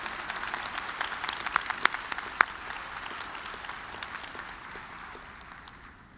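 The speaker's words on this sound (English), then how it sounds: "One more round of applause for our scholarship award winners." A graduation audience at a Charlotte early college ceremony gives a round of applause for scholarship award winners, a dense burst of many hands clapping that slowly tapers off toward the end.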